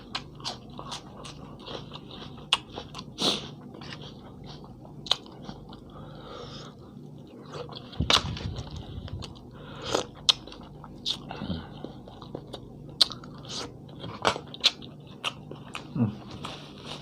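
Someone bites and chews crispy pork rinds alongside a spicy pork sausage salad, making close, loud crunches in irregular bursts across the whole stretch, with occasional quiet speech between bites.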